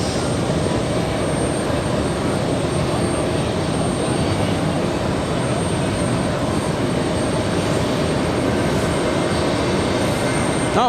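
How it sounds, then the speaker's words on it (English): JetBlue Airbus A320 in special livery taking off at JFK for West Palm Beach, a continuous loud broadband engine roar with a steady high whine, close and unbroken, no talking. "the next takeoff, we have another special livery by JetBlue."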